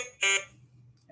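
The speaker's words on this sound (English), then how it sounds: "Once you hear the double beep, TSTAT would be ready for use." A T-Stat thermostat sounds a single short, piercing electronic beep during its startup sound test, close and loud, followed by near-silence with only a low hum.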